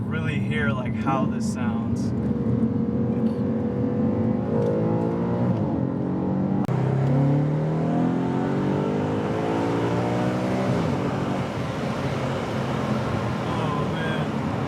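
A 2015 Audi RS5 V8 engine revs and accelerates loudly, its deep roar rising and falling in pitch through gear changes, steady and close throughout.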